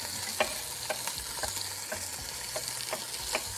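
Food frying in a very hot pan with oil while cooking lobster rice, a steady close sizzle broken by regular sharp crackles and pops with no one talking.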